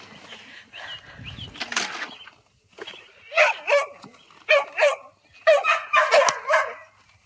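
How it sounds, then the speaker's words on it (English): Several dogs bark at farm dog kennels, sharp repeated barks and yips in bursts, moderately close and growing louder toward the end. "Now past the dog kennels,"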